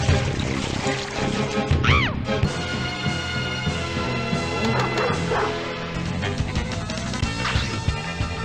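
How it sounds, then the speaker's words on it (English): A dog barks and yips close by over a busy, loud background of music and game sounds, with a few whimpering calls spread through. "Get this dog away from me."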